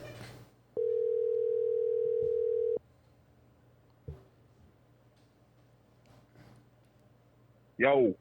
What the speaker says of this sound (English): Let's call Salada